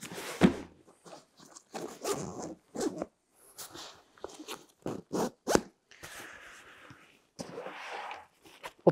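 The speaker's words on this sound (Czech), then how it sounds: "Vstup do hlavní komory je také uzavírán dvoucestným zipem" A two-way zipper being worked along the main compartment of a Berghaus FLT Ares 25 IR military backpack, with repeated short rasping zips in quick bursts, close and fairly loud, separated by brief pauses.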